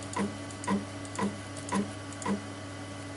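Soft, evenly spaced stepper-motor pulses as a CNC machine jogs down toward a touch plate in small increments, five or six regular ticks about half a second apart over a low hum.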